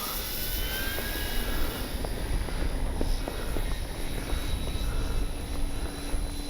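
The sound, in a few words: RC F4U Corsair warbird model plane flying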